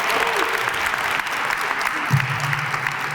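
Crowd applauding at a Black History Month closing ceremony, steady loud clapping throughout with a few voices mixed in.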